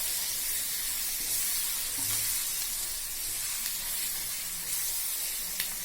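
Tempering (popu) sizzles steadily as it goes into chukkakura pachadi, a bright continuous frying hiss with faint crackles, close and alone without talk.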